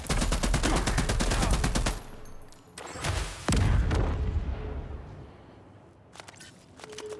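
Gunfire in The Expanse: Osiris Reborn: a long rapid automatic burst, then a pause, then further bursts and heavy booming shots, loud and close, tailing off into scattered quieter shots.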